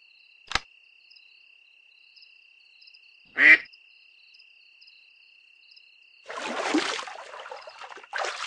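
A duck quacks once in a children's farm bedtime story, a short clear call standing out against quiet cricket-like chirping, followed later by a burst of softer, rustling sound.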